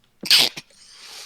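A single sharp, close human sneeze during a game playtest, a quick burst followed by a brief catch of breath and a soft trailing exhale.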